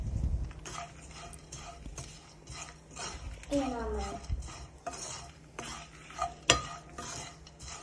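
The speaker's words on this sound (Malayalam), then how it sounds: "നന്നായി ഇളക്കി കൊടുക്കുന്നുണ്ട്." Turmeric powder roasting in a pan for a chickpea curry, stirred with a metal utensil that clinks and scrapes against the pan in irregular knocks, with a faint sizzle underneath.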